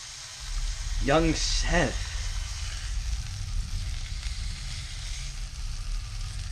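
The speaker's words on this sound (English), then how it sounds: "you're gonna let it simmer. Y'all see the simmer?" Skirt steak simmers in a pan for a breakfast burrito, giving a steady close sizzle and bubbling throughout, with someone talking over the first couple of seconds.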